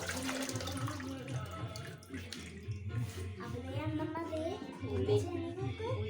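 Water running from a kitchen tap while a pan is washed, a steady rushing flow throughout with voices and clinking over it.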